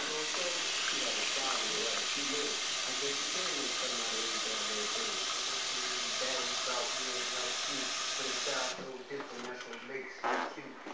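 Water pours steadily into a pot of beans being prepared with oxtails, a continuous hissing splash that stops abruptly near the end, followed by quieter clatter.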